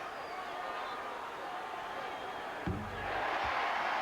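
Basketball arena crowd at a 2004 Lakers vs Timberwolves NBA West Conference Finals game reacts to a replay, a steady murmuring roar that swells louder toward the end, with a sharp thud partway through.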